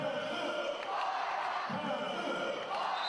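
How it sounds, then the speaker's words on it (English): A women's basketball crowd at the Townsville Entertainment Centre roars and cheers continuously during a WNBL game between Townsville Fire and Adelaide Lightning, a dense wash of voices filling the arena at steady volume. "Crowd getting involved here at the Townsville Entertainment Centre."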